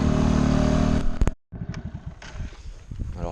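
Off-road-style vehicle rolling over sand mounds and bumps on a beach track in Mexico, its motor droning close and steady, cutting out briefly before restarting with uneven clattering and rumbling.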